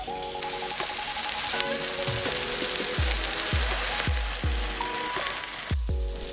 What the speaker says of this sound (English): Here's the beef patty going in. Here's the turkey patty going in.